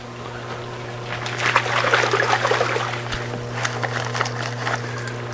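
Garden water trickles and splashes softly as freshly pulled beet roots are rinsed of dirt, an uneven dribble over a low steady hum.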